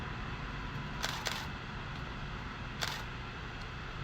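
A few sharp mechanical clicks, like a camera shutter, spaced irregularly over a steady background hiss.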